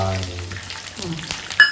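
Half a bowl of water poured into a hot pan of tempering with curry leaves and chillies brings a close, busy sizzle and crackle, capped by a brief sharp spit near the end, with no talking.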